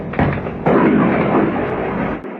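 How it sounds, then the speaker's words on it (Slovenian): Wartime footage from the Russia-Ukraine war catches an explosion: a sharp blast followed by a heavier, sustained rumbling burst that fades after a couple of seconds. "Prekletstvo, posnel sem eksplozijo."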